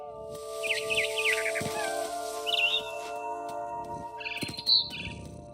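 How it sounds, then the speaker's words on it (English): A barn swallow chirps in bright, quick bursts of tweets near a house window in What Remains of Edith Finch, several separate flurries set over a low, steady tonal hum and soft background noise. "Then I heard chirping outside my window. It was a barn swallow going back to her nest."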